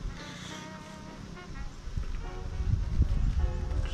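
Italian honey bees buzzing around an open hive during an inspection, a steady close hum that thickens toward the end, with faint handling noise and no clear speech.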